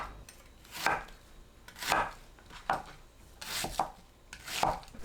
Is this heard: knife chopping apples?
yes